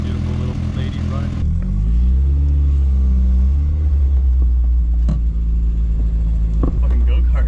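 A small go-kart engine idles steadily up close with a low, continuous rumble that holds at a constant level throughout, a few faint clicks and knocks rising above it.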